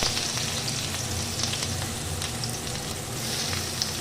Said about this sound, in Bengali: কড়াইতে দিয়ে দিয়েছি তেল আর তেলও গরম হয়ে গেছে আমি এবার একে একে এর মধ্যে দিয়ে দিচ্ছি পেঁয়াজ কুচি